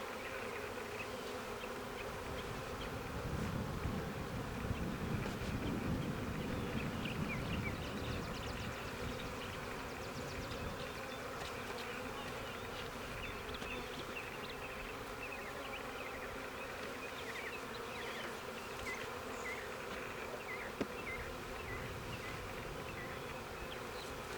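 Honey bees swarm and hum steadily around an open hive during queen rearing, a dense, continuous buzz close to the listener that swells slightly partway through, with no talking.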